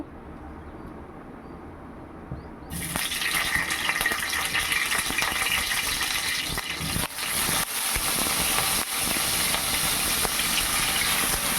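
Washed eggplants hit hot oil in a pan for Hyderabadi bagara baingan, setting off a sudden loud, steady hiss and sizzle after a quieter opening that carries on without talk.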